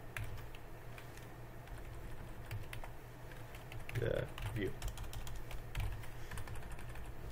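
Quick, irregular clicking of keys on a computer keyboard, close and moderately loud, with a brief mumbled voice partway through.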